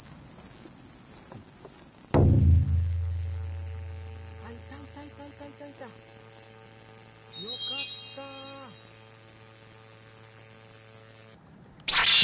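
A Shibuiro kayakiri katydid calls at night in spring woodland, a steady continuous buzzing drone running through most of the recording with a brief louder burst early on, heard alone without talk.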